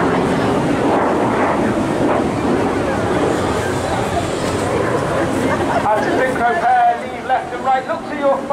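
Red Arrows jet aircraft roaring through an airshow display at Torbay, a loud continuous broadband rush lasting the whole stretch, with crowd noise and voices mixed in near the end.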